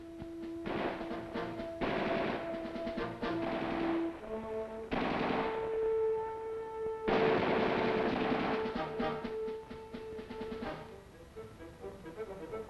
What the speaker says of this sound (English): The M60 machine gun.